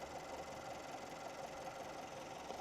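A car engine settles to a steady idle after being revved to about 3000 rpm, a continuous even hum with a light mechanical ticking throughout, close and moderately loud with no talking.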